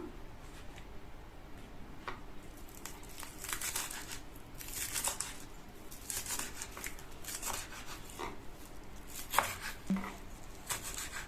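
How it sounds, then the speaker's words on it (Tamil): A knife chops the green portion of spring onions into small pieces on a board, with quiet, irregular crisp cuts repeating steadily at a distance, no talk. "இப்போ இந்த கிரீன் போர்ஷனை சின்ன பீசஸா கட் பண்ணிக்கலாம்"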